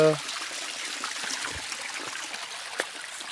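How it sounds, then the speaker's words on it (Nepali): A steady wash of trickling, splashing water runs continuously from a small waterfall in rural Nepal, with a brief voice at the start. "यो चाहिँ पानी झरना है, राम्रो छ शुद्ध।"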